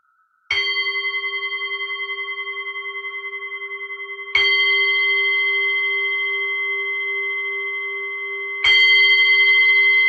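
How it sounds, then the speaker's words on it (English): A meditation bell struck three times at slow, even intervals at the start of a metta meditation session, each clear metallic tone ringing out and sustaining until the next strike. "I'll just sound the bell."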